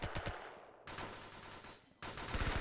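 An AK rifle in the Roblox Arsenal shooter game fires loud rapid bursts of automatic gunfire, broken by short gaps, with no talking.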